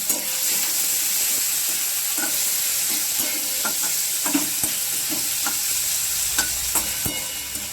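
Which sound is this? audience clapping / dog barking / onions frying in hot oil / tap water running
onions frying in hot oil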